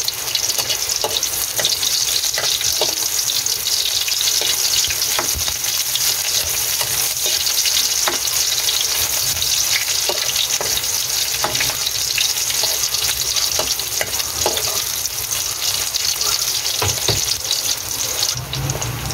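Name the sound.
garlic and onion frying in cooking oil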